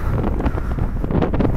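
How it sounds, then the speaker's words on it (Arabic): Strong wind buffets the microphone on a high, snowy mountain peak in Jordan during light snowfall, a loud, gusty roar that rises and falls without pause. "حاليا هناك تساقط خفيف للثلوج مع رياح شديدة"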